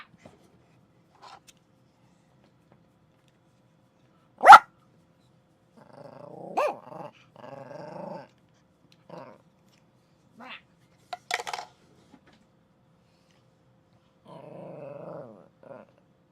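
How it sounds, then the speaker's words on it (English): A dog barks and growls in short, irregular bursts separated by quiet gaps, with one sharp loud bark early on and rougher, throatier growling sounds later, close by. "Bark, bark, bark, bark, bark, bark, bark."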